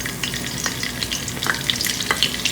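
Cumin seeds crackle and sizzle in hot oil in a pan for a mutton curry, a dense, steady frying hiss dotted with sharp pops and spits, heard up close with no voices.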